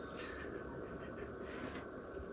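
Crickets at a cricket farm keep up a steady, dense chirping that fills the whole stretch at a constant level, with no talk.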